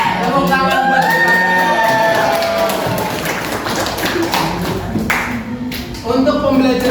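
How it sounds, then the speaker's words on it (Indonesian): Classroom of students clapping hands together with scattered whoops and shouts, a lively crowd burst at close range that is loudest early on, while voices and talk carry on over and under it throughout. "Tepuk tangan buat kita."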